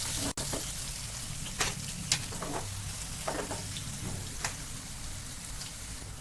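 Onion, tomato, cumin, mustard seeds and curry leaves fry in hot oil with a soft, steady sizzle and crackle, broken by occasional sharp pops and the scrape of stirring.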